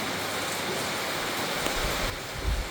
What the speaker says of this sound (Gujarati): જો પતરાનો અવાજ આવતો હશે તમને